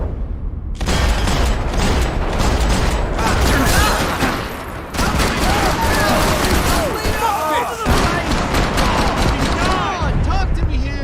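Heavy gunfire in the video game Max Payne 3, with continuous loud volleys from several weapons, rattling automatic bursts and crashing impacts, and shouting voices mixed into the chaos.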